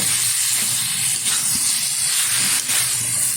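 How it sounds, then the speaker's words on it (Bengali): Fried potatoes and jackfruit being stir-fried in a pan for a shrimp curry, a loud continuous hissing sizzle close by with faint scraping, no talk. "এখন আমি এর মধ্যে দিয়ে দেব ভেজে রাখা আলু আর ইঁচড় এটাকে ভালোভাবে কষিয়ে নেব"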